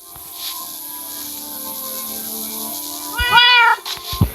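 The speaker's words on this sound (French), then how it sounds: "on a des chats." Several domestic cats meow close by in quiet surroundings, a few drawn-out calls rising over the last second.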